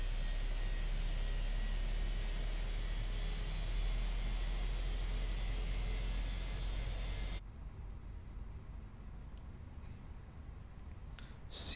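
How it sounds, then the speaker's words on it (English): Engine number 1 of an Airbus A321 in Microsoft Flight Simulator runs with a steady broadband roar, then drops abruptly to a much quieter hum with faint clicks, no talking. "Seems to be that I've turned on an engine number 1"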